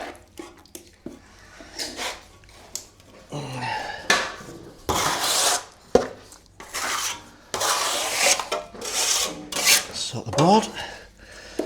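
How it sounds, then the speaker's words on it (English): A trowel scrapes and rasps as multifinish plaster is spread onto a board, in irregular close strokes with brief pauses, and a voice speaks briefly early on. "let's put some finished plaster on here"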